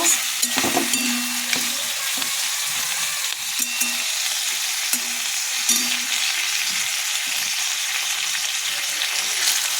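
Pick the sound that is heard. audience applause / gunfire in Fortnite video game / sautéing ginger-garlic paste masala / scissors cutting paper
sautéing ginger-garlic paste masala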